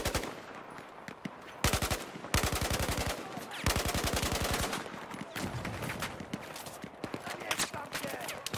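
Rapid automatic gunfire and single shots from the Battlefield 4 video game ring out in loud, dense bursts, with someone talking over the shooting at moments.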